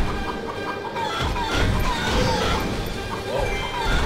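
Cuccos cluck loudly in the video game Hyrule Warriors, heard up close inside a dense, busy mix of battle noise that never lets up.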